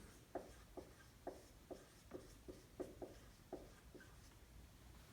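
Pen strokes on paper as a conjecture is written out by hand: about ten soft, evenly spaced scratches and taps, close and quiet, with no talking.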